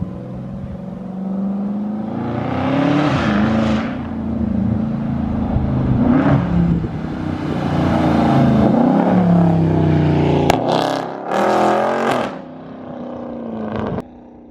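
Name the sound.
straight piped 2021 Dodge Charger Scat Pack exhaust downshifting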